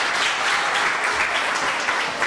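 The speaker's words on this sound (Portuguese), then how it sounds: "E um aplauso também para Gustavo." Church congregation applauding, dense steady clapping filling the brief moment, fairly close, with no clear voices.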